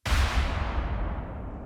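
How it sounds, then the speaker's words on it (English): A single deep explosion sample for modern metal music booms out with a heavy low-end thump and rumbles into a long, fading roar. "here I'm going to use an explosion sample that sounds like this."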